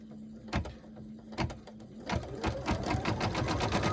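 An embroidery machine stitching potholder fabric held in the hoop, starting with a few separate mechanical clacks and then settling into a quick, steady stitching chatter, close and moderately quiet.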